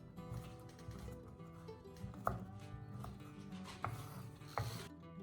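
Walnuts are chopped in a home kitchen, with a few distinct, irregularly spaced cutting knocks over soft background music.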